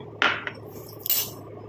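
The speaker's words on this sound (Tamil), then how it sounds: "ஒரு மூடி போட்டு நம்ம மூடி வச்சிடலாம்" A lid is put on a container of homemade skin cream: two short, close clicks and clatters about a second apart, followed by quiet.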